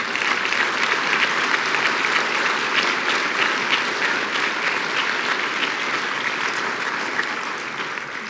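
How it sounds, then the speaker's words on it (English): Sustained applause from a large audience at a Sterling Scholar awards ceremony, steady and dense clapping throughout with no breaks. "Let's have a round of applause for our superintendents."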